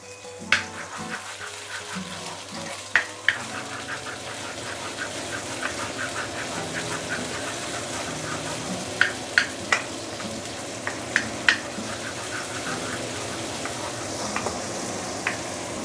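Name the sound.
sautéing shallots in a pan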